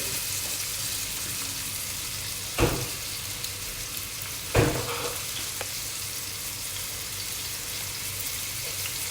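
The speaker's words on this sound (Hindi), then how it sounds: "इसको अब मैं थोड़ा सा सौते करूँगी, गोल्डन ब्राउन वगैरह कुछ नहीं करूँगी, बस हल्का सा सौते करूँगी इसको मैं।" Cubed onions sauté in a hot pan with a steady, even sizzle, broken by two sharp knocks of a utensil against the pan.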